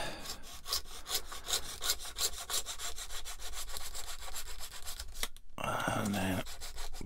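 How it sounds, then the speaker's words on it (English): A craft blade scores repeated lines into plastic sheet on a cutting mat while scratch-building greebles for a 1/144 Bandai Star Wars AT-AT model kit, a steady run of close, rhythmic rasping strokes, then a brief pause and a harder scrape. "put me score lines in so that I don't cut through me mat"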